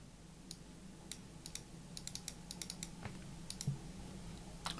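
Quiet, sharp computer clicks and light keystrokes in short irregular bursts while a file is saved in a WordPress child theme setup, with a low steady hum underneath and no talking.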